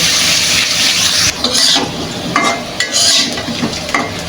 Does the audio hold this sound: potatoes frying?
yes